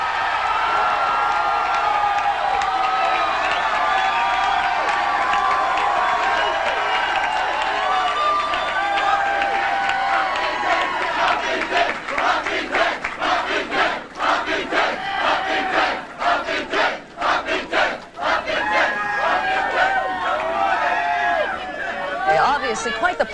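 A crowd at a 1994 Republican midterm election night party, a loud, dense roar of cheering, shouting and chatter that swells into bursts of whoops and applause, with a voice talking over it.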